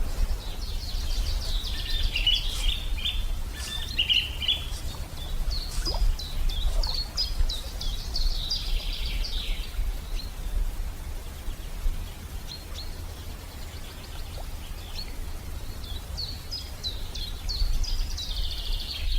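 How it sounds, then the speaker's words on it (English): Small birds chirp and tweet in short, scattered calls near a spring riverside fishing spot, set against a steady outdoor hiss of flowing water and wind, with no talking. "even the birds came to try it. They're just walking around here with me."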